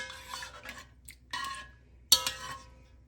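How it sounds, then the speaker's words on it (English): Mango chutney with chili, cooking down in a pot for canning, is stirred in a few short scraping strokes, close and soft, with quiet gaps between them and no talking. "Stir it up."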